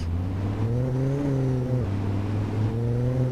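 A steady, droning car engine in the driving game Real Driving Sim hums continuously, its pitch rising slightly and dipping as it shifts.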